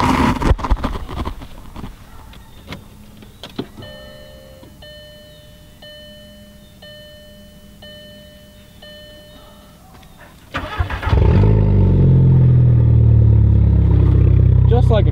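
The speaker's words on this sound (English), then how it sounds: "But let's go ahead and get a little bit of a cold start." A Volkswagen Jetta engine cold-starts after several seconds of cranking and chiming, catching with a sudden loud roar that settles into a steady, close rumble.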